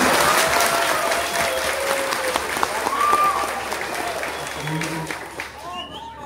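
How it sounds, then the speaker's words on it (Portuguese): A standing audience at a round-table meeting applauds loudly and steadily for about five seconds, with voices murmuring through the clapping before it thins out near the end. "vamos ficar de pé e dar um aplauso bem forte"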